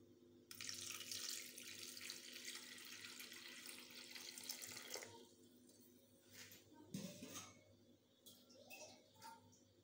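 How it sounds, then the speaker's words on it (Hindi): Tap water runs steadily for several seconds into a vessel of peeled raw mangoes in a home kitchen, then gives way to softer splashes and drips. "फिर से अब इसमें हम पानी ऐड करेंगे"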